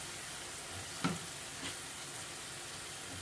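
Ingredients for tuna carbonara sautéing in a pan, a quiet continuous sizzle with a sharp clink of a utensil stirring about a second in and a softer scrape shortly after.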